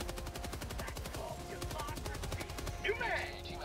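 Rapid bursts of heavy gunfire from a big gun in the video game Helldivers 2, a steady stream of close, loud shots running the whole time with a brief louder crack near the end.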